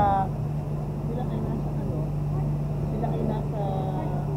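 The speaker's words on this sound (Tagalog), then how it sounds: "Ayun na, naririnig mo na ulit yung makina." A boat engine hums steadily at sea with a low, constant drone, while a person talks over it.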